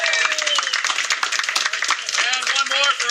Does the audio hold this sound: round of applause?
yes